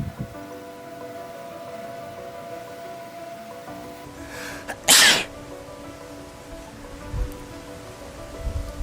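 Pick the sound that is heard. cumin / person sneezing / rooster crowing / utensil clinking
person sneezing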